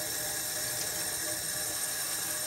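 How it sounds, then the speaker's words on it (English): Water runs from a kitchen faucet into a J-shaped tube, making a constant loud, even hiss and rush that does not change, close and with no talking. "I'm gonna turn on the faucet, and if I hold this J-shaped tube down here, you'll see that water will come out of the top."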